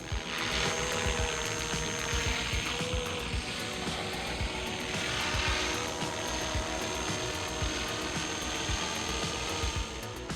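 A large AH-1 Cobra 500-class RC helicopter touches down, its rotor and motor whir filling the scene with a steady, close mechanical buzz and rhythmic chopping, no talking over it.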